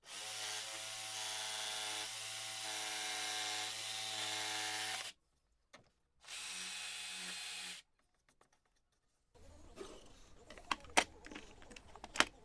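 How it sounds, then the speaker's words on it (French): A flush trim router shaves the sharp edges off a dust-extraction jaw part, two steady high-pitched whining passes with a short gap between, then stops, followed by scattered clattering and knocks as the piece is handled. "j'enlève grâce à la fleureuse tous les bords saillants"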